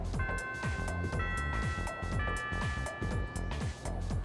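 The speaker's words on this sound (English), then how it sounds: "The first bell has rung." A school bell chimes in the video game Persona 3 Reload with steady sustained tones over a busy, rhythmic background of game music.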